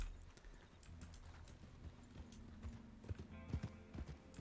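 A group of horses ridden together in the western game RedM: rhythmic hoofbeats clopping and thudding fairly quietly, growing busier and more overlapped toward the end.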